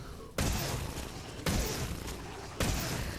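Turrets in Call of Duty Exo Zombies fire in three heavy bursts spaced about a second apart, each a sharp loud onset that rumbles on with dense gunfire noise.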